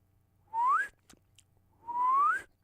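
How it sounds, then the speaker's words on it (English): Two loud whistles produced by drawing breath in, each a rising tone lasting about a third of a second, separated by a short pause with faint clicks; close to the microphone with no talking. "Let me see if I can get one loud inhale whistle"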